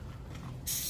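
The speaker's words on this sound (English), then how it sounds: "So what I'm doing is I'm just spraying all of it and then hosing it down" Easy Off cleaner hisses from a spray can onto the engine of a truck used to haul trash, one sharp close burst cutting in over a low rumbling background.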